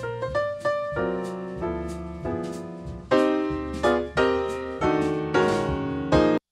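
Jazz piano block chords run through Fat Saw plugin processing, a steady sequence of bright, punchy chord stabs with strong attacks and a full low end, played alone and ending abruptly.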